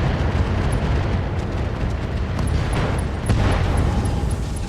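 Heavy mech weapons unleashing a sustained roaring barrage in the Roguetech video game, loud explosive rumble continuous throughout with no talk.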